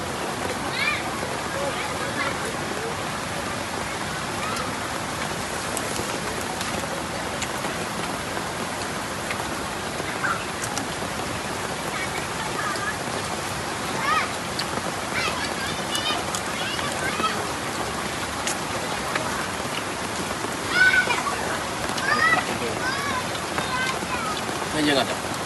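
Rain falls in a forest as a steady, dense hiss of drops on leaves and surfaces that holds evenly throughout, with people talking now and then beneath it.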